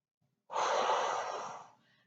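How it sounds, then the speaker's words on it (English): One long, deep breath exhaled during a yoga flow, close and soft, rising quickly and fading out over about a second. "Let's start to transform the energy in the lungs by going deep, deep breaths."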